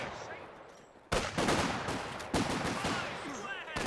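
Gunfire from a sniper and other weapons in the Company of Heroes 2 strategy game, with two sudden loud bursts followed by rapid crackling shots and a faint voice beneath.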